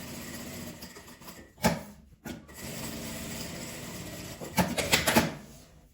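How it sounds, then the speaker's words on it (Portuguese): A sewing machine stitches thin nylon along the edge of a tiny coin-purse keychain bag, running in short whirring bursts: one quick run, a brief pause, then a longer stretch near the end. "Eu vou costurar ele todo aqui na beiradinha."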